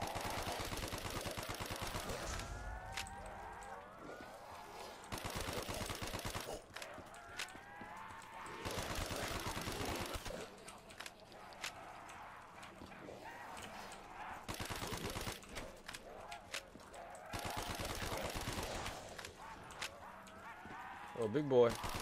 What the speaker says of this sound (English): MP40, the true point gun.